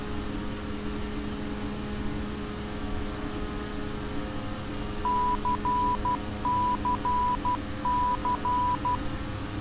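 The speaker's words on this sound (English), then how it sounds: "we're going to listen for the Morse code" Morse code identifier from a VOR navigation station, a steady tone keyed in repeating dash-dot groups, heard faintly over a constant droning hum and radio hiss.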